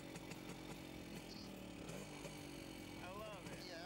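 A BSA Bantam 175cc motorcycle engine runs steadily at close range, its busy mechanical drone staying loud throughout with a brief rising rev near the end, while people talk over it.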